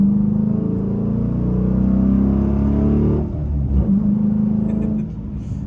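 A Dodge Challenger SRT8 engine rumbles and revs steadily, pitch climbing as it accelerates, then dips briefly before pulling again, loud and close.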